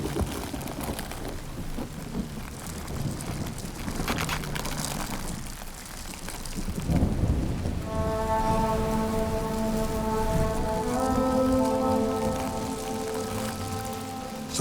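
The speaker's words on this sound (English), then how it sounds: "Lightning storms could set aflame the immense forests and their inhabitants." A thunderstorm brings steady heavy rain with rumbling thunder, loud and continuous. A sustained musical tone joins partway through.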